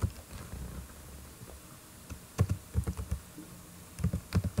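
Clicky keystrokes on a computer keyboard while HTML form code is typed, arriving in uneven bursts and single taps, close and moderately loud over a quiet room.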